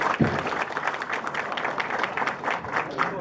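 Audience applause for the speaker at the close of a live talk on land matters, a fairly soft, rippling round of clapping from a modest crowd with a faint voice now and then.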